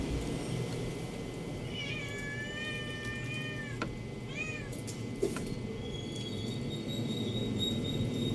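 A cat meows several times in a row, drawn-out and whiny calls at close range, over a steady background of insect-like chirping and low ambient noise.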